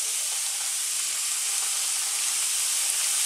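Garlic and ginger paste sizzles in a pan over medium heat, giving a steady, bright, close hiss that holds without a break and with no talking.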